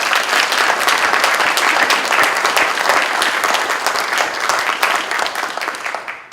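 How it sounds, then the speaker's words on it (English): Sustained, dense applause from an audience in city council chambers at a 2018 Chino Hills candidate forum, steady throughout and tapering slightly at the end. "would like to give all of our candidates a round of applause at this time"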